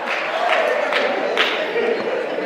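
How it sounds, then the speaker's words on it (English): A crowd roars and murmurs in a steady wash of many voices, with faint cheers rising briefly over the dense background noise. "Do you hear the crowd?"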